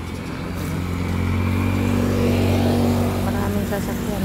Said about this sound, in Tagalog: Maraming sasakyan ko dito ng lumadaan.